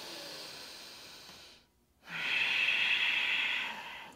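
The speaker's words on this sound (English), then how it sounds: "Starting to cultivate your Ujjayi breathing in this first down dog." Ujjayi breathing in a yoga down dog, air drawn through a constricted throat: a soft, close hiss that fades out, breaks off in a short silence, then returns as a stronger, brighter exhale.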